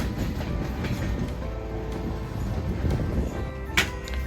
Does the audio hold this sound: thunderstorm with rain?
no